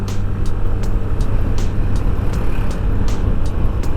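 A Yamaha Fazzio scooter, a 2023 model, runs at full throttle on a long road ride, giving a steady, dense engine and road roar with wind rush and no pauses.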